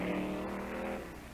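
A 1964 Ford Fairlane Thunderbolt drag car with a 427 cubic inch high-riser Ford engine drones at a steady pitch with its exhaust at a super stock drag race, fairly faint and easing off slightly at the end.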